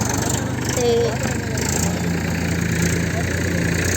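A tractor engine idles with a low, steady rumble close by, running continuously without revving.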